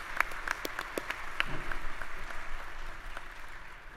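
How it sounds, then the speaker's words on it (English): Applause at a spring commencement ceremony for a graduating student, moderately loud clapping with a few sharp cheers and whoops mixed in over about four seconds. "Can you give Kayla a round of applause?"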